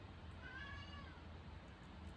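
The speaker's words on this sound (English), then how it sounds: "The only comic review show where you can hear cats meowing constantly" A cat lets out a drawn-out, wavering meow that rises and falls over a low indoor hum, with fainter chirps from other cats near the end; no one speaks.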